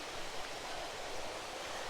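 The Solby River in Tholt-Y-Will Glen rushes over rocks below a reservoir, a steady broadband wash of flowing water, close and constant with no break.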